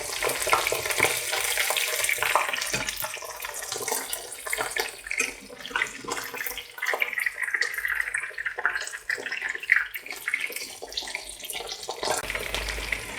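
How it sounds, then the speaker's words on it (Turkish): Chicken fries in oil with a busy, crackling sizzle that keeps going steadily, close by, and no talking. "Tavukları çevirerek diğer tarafını da güzelce kızartıyorum."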